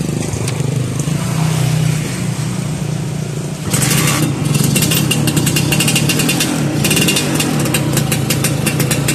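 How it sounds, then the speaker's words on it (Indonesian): A small two-stroke Suzuki Satria motorcycle with a stock AHM exhaust and a dented silencer idles with a rough buzzing exhaust. It grows louder and crackly partway through as the throttle is blipped, and it stays close throughout. "cek sound knalpot AHM original bos"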